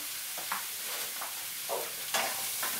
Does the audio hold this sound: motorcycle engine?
no